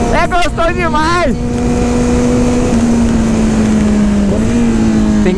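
A Kawasaki Z900 motorcycle engine revs in quick rising and falling bursts, then settles into a loud, steady high drone as it accelerates hard, close by.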